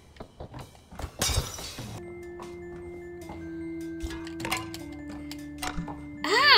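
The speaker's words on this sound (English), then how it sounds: "I'm very interested in this light bulb smashing" Light bulbs smashed in the video game Night In The Woods: a loud bright glass shatter, then tinkling fragments and scattered clinks over a sustained tonal game drone, with another crash near the end.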